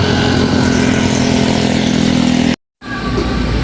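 A parked motorcycle's engine runs steadily at idle, loud and close, with a constant low rumble and a brief dropout near the end.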